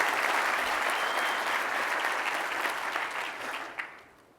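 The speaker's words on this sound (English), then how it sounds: "Round of applause." An audience gives a steady round of applause at a business leadership conference. The dense clapping holds at an even level for about four seconds, then tapers off at the end.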